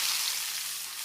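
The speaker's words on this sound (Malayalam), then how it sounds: "ഇത് നല്ലവണ്ണം സവാള നല്ലോണം വഴറ്റി വെച്ചിട്ടുണ്ട്" Onions sauté in a pan seasoned with cumin and fennel seeds, giving a soft, even, close sizzle for about a second with no talking.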